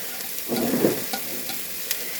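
Half a red onion and green pepper sauté in a pan with a moderate, steady sizzle and a brief louder burst of stirring near the start, heard up close without speech.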